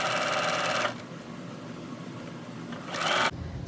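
A sewing machine stitches pillow fabric while back stitching, with a loud, close, rapid mechanical whirr in two bursts. It runs for about a second, pauses to a quieter hum, then whirs again briefly.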